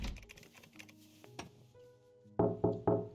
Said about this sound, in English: someone knocked on the door, bro.